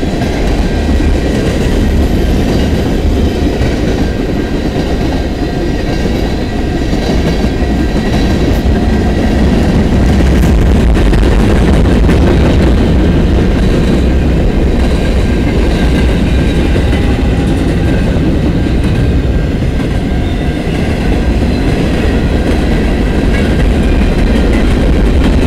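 A Norfolk Southern freight train rolls past on the Dundas Subdivision at Rectory Street in London, Ontario, a loud, continuous rumble of wagons with clickety-clack wheel noise lasting throughout, close by and with no talking.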